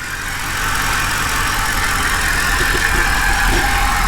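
Engine of a 2008 Mercedes CLK running loudly and steadily at idle after starting, a continuous close drone with no talk.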